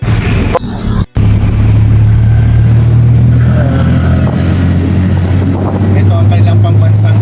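A tuk-tuk in Bangkok, Thailand buzzes along with a steady, loud engine drone and rushing wind close up, surrounded by passing street traffic, with people talking over the ride.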